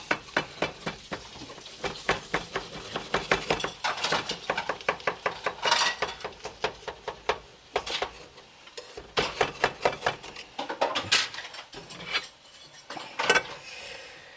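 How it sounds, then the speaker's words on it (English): A knife scrapes and clicks around the metal rim of a pan holding an Instant Pot flan, producing a long run of quick, irregular taps and scrapes, close and fairly quiet, with no talk. "We're going to want to run a knife around the edges just to loosen this up."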